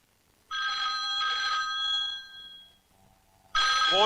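A telephone bell rings in two bursts, a pause, then a third burst begins, clear and fairly close in a quiet room, with a faint voice at the very end.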